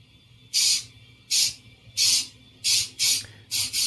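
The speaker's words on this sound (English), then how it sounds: "Is that spray paint?" Spray paint can spraying: six short, loud hissing bursts in a fairly even rhythm, each about half a second long, with brief quiet gaps between them. No one talks.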